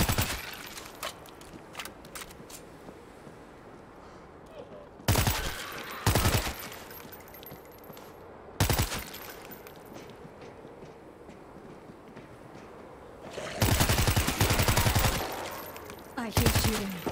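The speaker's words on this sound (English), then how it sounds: "I hear shooting." Gunfire in the video game World War Z Aftermath, Kamchatka chapter, in a winter setting: several loud, sharp bursts of rapid automatic shooting at irregular intervals, separated by stretches of low, steady background ambience.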